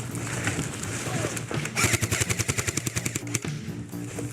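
Rapid automatic gunfire in a multiplayer shooter video game, a loud close burst of about a dozen evenly spaced shots following a rumbling explosion-like blast, with faint background voices.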